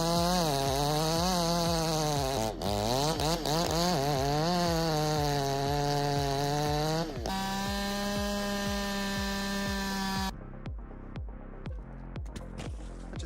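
Chainsaw running loud and close, its engine rising and falling through repeated revs as it cuts into a big, rotten hemlock, then settling into a steadier high whine before stopping, with sharp cracks and thuds afterward.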